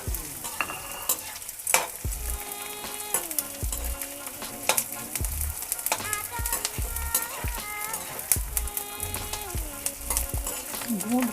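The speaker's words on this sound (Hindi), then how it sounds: "अब इसमें गूंद को तल लूँगी।" Gond, an edible gum, frying in ghee in a kadhai, with steady close sizzling and crackling, spoon stirring and scraping against the pan, and clinking bangle-like tones throughout.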